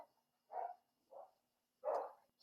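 Dogs, bulldogs and a Shih Tzu, bark three times from upstairs behind a shut door, the muffled, faint woofs spaced apart in a quiet room.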